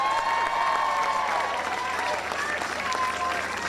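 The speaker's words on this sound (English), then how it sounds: "That was a good thank you, clap and cheer." Outdoor crowd at a Women's March rally in Napa Valley applauding and cheering, a loud sustained wash of clapping mixed with shouts and whistles.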